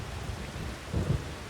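Rain and thunder in a farming video game: a steady wash of rainfall with a low rolling thunder rumble swelling near the end, moderate in level with no speech.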